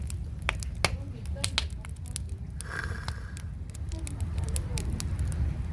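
A wood fire burns in a homemade firebox beneath a cauldron, crackling and popping sharply and irregularly over a low roar, with voices talking nearby.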